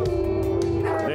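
A team of sled dogs barks and yips excitedly as harnessing begins before a run, a dense steady chorus of overlapping barks close by, with voices talking underneath.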